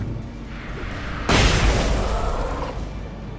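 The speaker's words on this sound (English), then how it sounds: "One more flashbang." A flashbang goes off in the video game Alan Wake: a single loud, close burst with a sharp onset and a broad noisy tail that lingers and slowly fades, over a quieter game backdrop.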